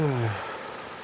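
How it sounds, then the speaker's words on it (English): Rain falling in a steady, even hiss that fills the whole stretch, with a brief voice-like tone at the very start before the patter carries on alone. "ooh, it's raining."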